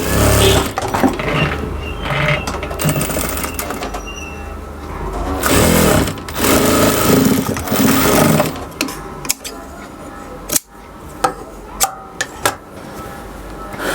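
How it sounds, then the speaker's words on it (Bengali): A sewing machine stitches the cuff of a sleeve, running in loud close bursts of rapid needle clatter that stop and start, with sharp clicks and handling noises in the pauses. "এখান থেকে মুহুরিটা সেলাই করে নেব"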